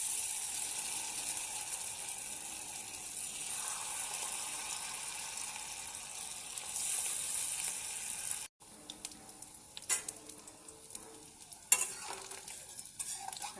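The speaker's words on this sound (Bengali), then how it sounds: "এই পেস্ট দিয়ে আমি বড়াগুলি ভাজবো।" Bok flower fritters dipped in rice paste batter fry in hot oil with a steady crackling sizzle, then after a brief cut come intermittent scraping and stirring clatters of a utensil in the pan.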